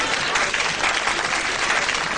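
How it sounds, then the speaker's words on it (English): A studio audience at a Sooty puppet show applauds: a dense, steady wash of many hands clapping at once, loud and continuous, with no single claps standing out. "Give me a round of applause."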